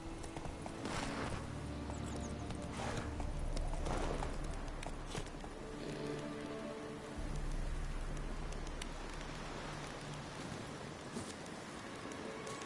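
Horse hooves clip-clop steadily at a walking pace in a video game, over a constant bed of ambient outdoor noise, with occasional bird calls in the background.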